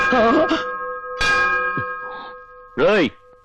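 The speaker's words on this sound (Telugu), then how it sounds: "ఎవరా అది కాలింగ్ బెల్ కొట్టింది?" A doorbell chimes with sustained ringing tones in a Telugu film scene, the bell notes lingering while voices speak over and around them.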